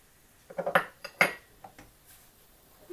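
Roasted ingredients with raisins and cardamom powder are stirred in a pot, a spoon scraping and clinking against the metal in a few quick, close strokes followed by quieter taps.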